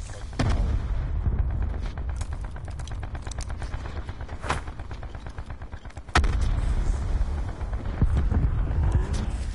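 Grenade explosions and gunfire in a shooter video game make a continuous rattle of rapid shots, punctuated by a few sharp, loud blasts and a heavier burst partway through.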